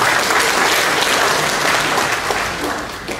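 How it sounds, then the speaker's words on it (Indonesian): Full, steady applause from a crowd at an Indonesian provincial government contract-signing ceremony, dense and loud throughout and easing slightly near the end. "Tepuk tangan buat kita semua."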